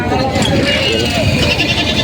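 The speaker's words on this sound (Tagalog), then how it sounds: "Binibenta si boss dito nga barakong kambing na red bower." Goats at a busy livestock market in Padre Garcia, Batangas, including a red Boer buck, bleat through dense crowd noise and background chatter.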